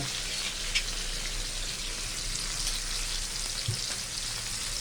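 Pork sizzles steadily as it is stir-fried in a hot pan for northern Thai nam prik ong, a continuous close frying hiss with light stirring scrapes and no talking.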